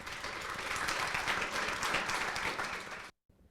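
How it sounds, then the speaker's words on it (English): Sustained audience applause at a youth advocates public forum, dense clapping holding steady for about three seconds before cutting off abruptly into near silence. "Just a big round of applause for the first group."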